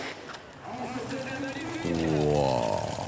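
An alcohol-fuelled tuned vehicle engine at a tuning meet idles, then revs up with a rising, harmonically rich whine that grows louder and holds near the end.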